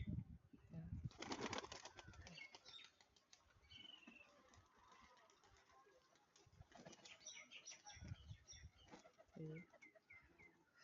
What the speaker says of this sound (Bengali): এই যে আমার পায়রা, দেখো